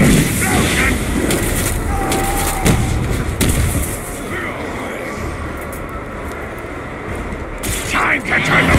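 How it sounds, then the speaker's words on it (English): Rumbling explosions and crackling blasts from a pit-fight survival video game keep up a dense, loud roar throughout. "Here comes the explosion!"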